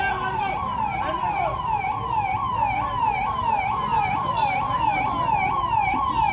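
An ambulance siren wails in a steady repeating up-down cycle, loud and continuous on a street at a political rally in Malakpet, with faint traffic rumble underneath.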